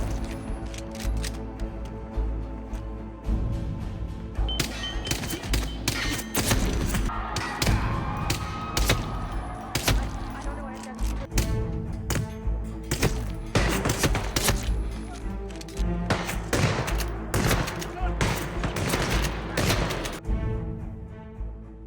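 Dense gunfire and heavy thuds fill a shootout in Hitman World of Assassination, loud and continuous, with rapid shots and impacts layered over a steady game background.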